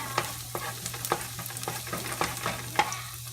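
Onion and two cloves of minced garlic sautéing in a pan, a steady sizzle punctuated by regular spatula strokes scraping the pan about twice a second, close and with no talking.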